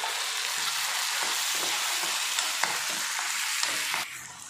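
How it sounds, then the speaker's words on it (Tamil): Onions sizzle and fry steadily in a hot pan with ground masala for a masala tapioca dish, a continuous close crackle broken by occasional stirring scrapes, easing slightly near the end. "இப்போ வெங்காயம் நல்லா வதங்கிடுச்சு. இதில் நம்ம அரைச்சி வச்சோம்னா அந்த மசாலாவை சேர்த்துக்கலாம்."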